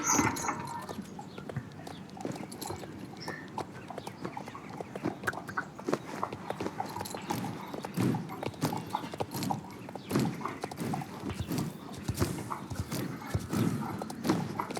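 Horse hooves clip-clop steadily in the Star Stable riding game, a continuous rhythmic trot of close, moderate-loud footfalls, with occasional faint bird clucks in the background.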